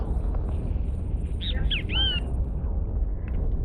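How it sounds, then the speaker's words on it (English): A bird squawks a few times in quick succession within the space game EVE Online, sharp calls over a loud, steady rumbling background. "That's a bird."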